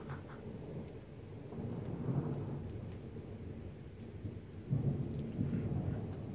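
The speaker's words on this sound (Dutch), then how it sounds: "Het is echt zwaar onweer, echt." A heavy summer thunderstorm in Vorden, June 2016: deep rolling thunder rumbles on and off under steady rain, swelling into louder, closer bursts partway through and again near the end, with no voices.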